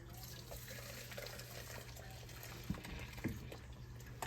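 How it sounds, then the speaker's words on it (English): Crème caramel custard liquid is poured through a strainer into a bowl, giving a faint, steady trickling stream with a few soft clinks, close but quiet. "I like to strain my liquid here just to make sure"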